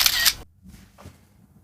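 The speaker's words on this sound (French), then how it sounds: "Allez, Michel, selfie, y en a marre que tu sois hors champ." A single camera shutter click as someone takes a selfie, sharp and close, followed by a quiet, faint second sound.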